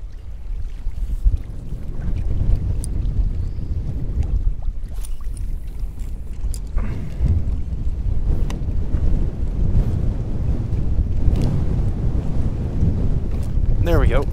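A small boat motor runs steadily at low speed on open water, a continuous low rumble under heavy wind buffeting the microphone, with a few faint knocks and splashes.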